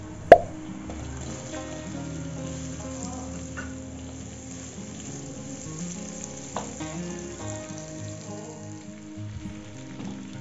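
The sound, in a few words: sliced onion sizzling as it is added to frying garlic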